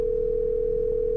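A steady phone dial tone rings out alone in a Thai horror video game as a call to grandpa is placed, one unbroken loud hum throughout.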